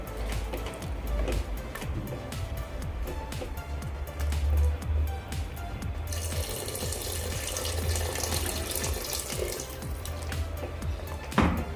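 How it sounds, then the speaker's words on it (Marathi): Water runs steadily from a tap into a pot of rice for biryani with soya chunks, a continuous close splashing pour whose tone brightens partway through as the level rises, with no talking. "आता यामध्ये आपण तांदूळ भिजतील इतपत पाणी घालायचं आहे"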